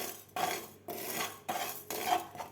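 Fenugreek seeds and cumin are warmed in a hot pan, heard as four soft, evenly spaced scraping strokes of a utensil across the metal, quiet and close with no talking.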